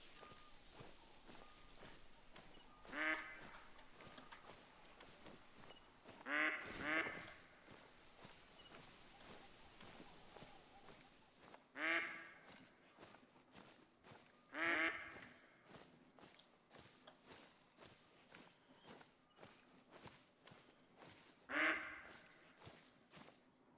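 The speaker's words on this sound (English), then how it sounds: "If I can figure out where these ducks are, I got duck meat." Ducks quack in short separate bursts, spread out across the scene, over a soft outdoor ambience with footsteps in the hunting game The Hunter: Call of the Wild, heard at night.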